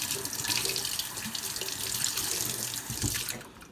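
Tap water runs steadily into a sink, splashing as a piece of liver-of-sulfur-toned silver is rinsed under it, close and even for a few seconds before tapering off at the end.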